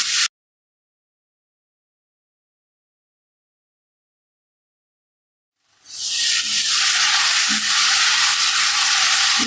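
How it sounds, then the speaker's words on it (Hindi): Boneless chicken cubes fry in a pan with garlic. A brief burst is followed by several seconds of silence, then a loud, steady, close sizzle begins and runs to the end. "अब यहाँ पर चिकन अच्छे से फ्राई हो चुका है।"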